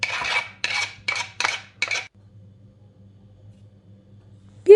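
Batter of egg and tomato is stirred in a bowl, five quick rasping scrapes of a utensil in steady rhythm, close and alone, followed by a near-silent pause and a brief clink at the end.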